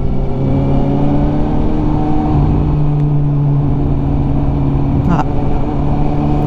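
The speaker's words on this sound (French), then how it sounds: "Ah, la grosse moto." Engine of a big motorcycle passing during an autumn ride, a steady loud drone that holds throughout, with people talking over it.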